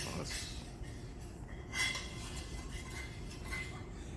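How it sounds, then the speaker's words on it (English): Spoon stirring honey into orange juice with a pinch of cinnamon in a bowl for a root vegetable recipe, soft scraping clinks against the dish, faint and intermittent over low room noise. "you're going to make sure you stir it to blend the honey into your orange juice"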